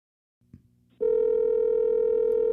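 A telephone line clicks and hums briefly, then a loud, steady dial tone starts and holds continuously while calling back.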